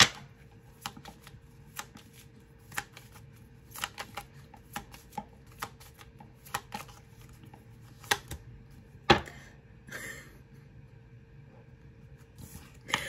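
Tarot cards being shuffled by hand, soft papery riffles and taps recurring in an irregular rhythm, close and fairly quiet in a still room.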